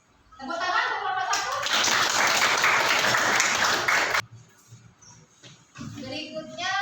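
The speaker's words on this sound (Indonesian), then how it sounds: "Tepuk tangan untuk kelompok" A burst of applause from students in a classroom, steady clapping for a few seconds that stops abruptly, with speech before and after.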